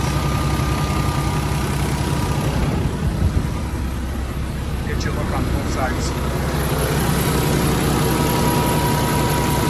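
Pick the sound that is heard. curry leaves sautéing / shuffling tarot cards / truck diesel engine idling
truck diesel engine idling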